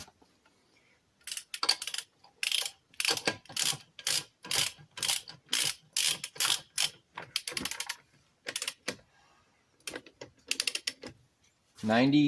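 Lug nuts snugged by hand onto a 1998 Dodge Ram wheel fitted with spacers, heard as close, rapid bursts of metallic clicking and ratcheting in short, repeated runs with pauses between, and a voice briefly at the end.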